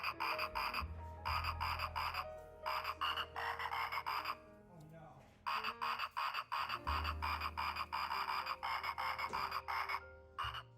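A croaking Christmas frog toy plays a long electronic tune with rhythmic croaks, loud and close, running in repeated bursts with a brief pause midway.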